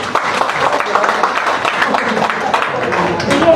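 Audience applause at a religious rally in Sierra Bullones, Bohol: a dense, steady wash of many hands clapping that fills the space, with voices mixed in beneath.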